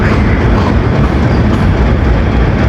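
The Hazara Express passenger train at a station, a loud, dense rumble of rolling wagons and machinery filling the whole moment close by, with no voices.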